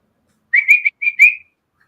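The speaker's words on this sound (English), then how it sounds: "Whistle." A person whistles a short tune of about five quick, bright notes in two phrases, close and clear against silence.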